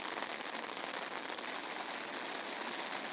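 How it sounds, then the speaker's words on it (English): Heavy rain pours steadily onto an umbrella on the Solent shoreline at a sea fishing match, a dense, continuous hiss of drops drumming close overhead with no let-up. "And here comes the rain. It is absolutely peeing it down."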